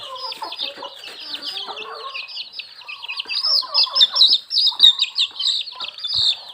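Young chickens being raised on a small Thai farm, a few with clipped wings, keep up a busy chorus of high chirps and soft clucks, many birds overlapping close by with no talking.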